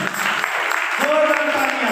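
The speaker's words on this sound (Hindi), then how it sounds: "यीशु नाम के लिए एक बार फिर से तालियां बजा दें" A church seminar congregation claps in praise, a dense burst of applause with a voice speaking over it.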